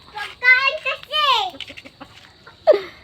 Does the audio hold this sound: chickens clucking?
yes